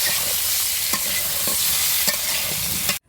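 Small mixed river fish from the Bhairab River frying in hot oil in a village kitchen, a steady loud sizzle with occasional stirring scrapes, which cuts off abruptly at the end.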